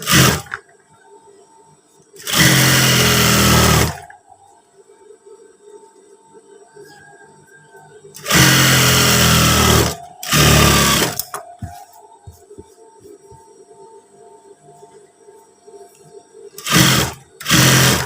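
A sewing machine stitches a pair of trousers with a pocket (PDL style) in three loud, sustained runs of rapid stitching, separated by short quiet pauses, with a fourth short burst at the end.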